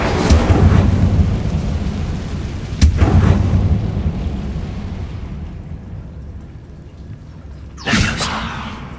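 The Incendio fire spell in Hogwarts Legacy goes off with booming, fiery blasts, a big one at the start and another two later, each fading into a rumbling roar.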